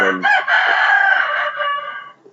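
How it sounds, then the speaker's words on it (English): A rooster crows once, loud and close, a long drawn-out call that fades at the end. "in my neighborhood we have a rooster."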